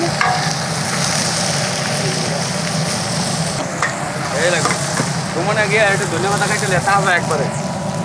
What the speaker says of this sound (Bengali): আজকে লাল লাল করে ভাজছে